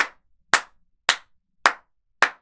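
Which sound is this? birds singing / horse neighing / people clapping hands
people clapping hands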